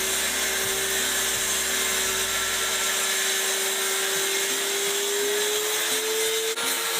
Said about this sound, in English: I'm not pushing the wood too hard, I'm just going nice and slow and letting the blade do the work.